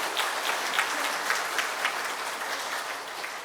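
A congregation applauds during a Sunday church service, a sustained, even wash of clapping from many people with a few sharper claps standing out, with no talking over it.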